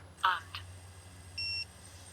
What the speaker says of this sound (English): It's beeping, I don't know why.